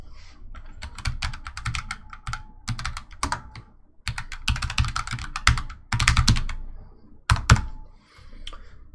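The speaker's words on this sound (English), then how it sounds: "Let me type it in." Rapid typing on a computer keyboard in bursts with brief pauses, clicking keystrokes close and fairly loud, with a few heavier thunks from harder key presses and no talking.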